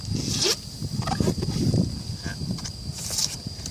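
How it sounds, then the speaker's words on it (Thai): Cardboard box holding Visp 30 mm aluminium bicycle wheels with ceramic bearings being opened indoors: scratchy zipper-like tearing and rustling of packaging, close and moderately loud, in a few short bursts with no speech. "แล้วเรามาเปิดกล่องดูพร้อมๆกันครับผม"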